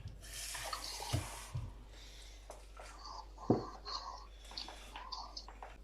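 Water is poured and splashes during home cooking of fried chicken with rice, a brief hissing gush followed by a few sharp drips and clinks, fairly close and moderately loud, with faint background noise.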